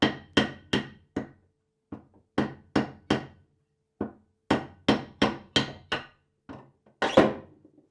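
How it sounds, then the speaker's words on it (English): A hammer strikes a 2x4 to seat the bearing tube of a Maytag Bravos XL washing machine: about fifteen sharp, close wooden knocks in uneven clusters, with short pauses between them and no talking. "if I use a 2x4 and a hammer, I should be able to give that a few taps."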